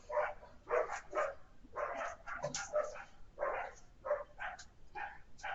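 Several dogs bark in repeated short bursts, moderately loud and somewhat distant, in an irregular rhythm that carries on throughout with no voices over it.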